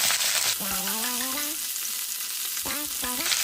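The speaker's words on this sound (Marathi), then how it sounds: "आता त्यानंतर ही भेंडी टाकली" Okra frying with masala in a little oil in a pan: a steady, close sizzle runs throughout, with two bursts of squeaky, rising tones as the pan is stirred.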